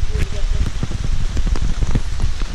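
Steady rain in La Ceiba Rainforest, Costa Rica, patters densely and continuously on foliage and surfaces, with scattered heavier drops throughout.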